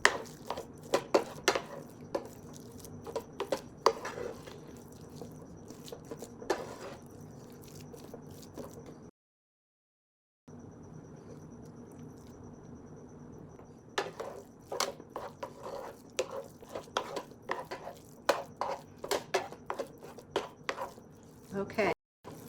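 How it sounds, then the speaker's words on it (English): Sushi rice seasoning mixed with Swerve sweetener is stirred in a bowl, a steady run of scraping, tapping utensil strokes close by, pausing briefly partway through, with a voice talking over parts of it. "I'm going to give it a quick stir before I add the vinegar"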